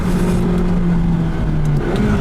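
McLaren 570GT engine pulling hard up a winding mountain road on a volcano, with a loud, steady, close droning growl that shifts pitch slightly as it accelerates, and no talking.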